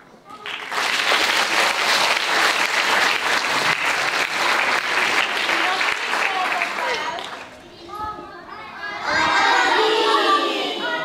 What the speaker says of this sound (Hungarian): A közönség jutalma, tap sem maradt el, lelkesen köszöntötték a muzsikát.